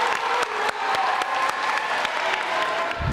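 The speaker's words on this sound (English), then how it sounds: "Okay, one more round of applause for these guys." A middle school audience at a 6th and 7th grade awards ceremony gives a sustained round of applause for students, dense clapping with scattered cheers close and loud, ending in a low thump.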